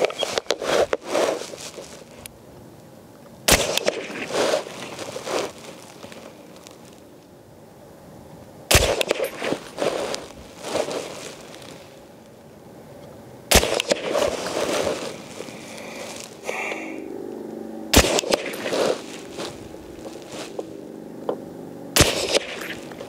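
Sharp, separate rifle shots from a PSA Sabre 10 firing Federal Premium 168-grain Sierra MatchKing ammunition, about six cracks spaced a few seconds apart at an outdoor range, with quiet gaps and faint handling noise between.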